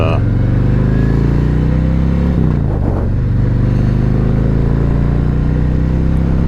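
A Harley-Davidson Road Glide motorcycle rumbles loudly and steadily close by, its engine pitch dipping briefly once, as someone talks over it.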